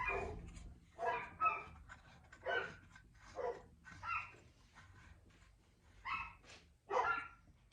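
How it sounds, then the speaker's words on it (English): A dog barks repeatedly in the background of a home garage workshop, roughly eight separate barks spaced about a second apart, moderately distant and fairly loud, with no speech over it. "Barking dog again. God, that dog never shuts up."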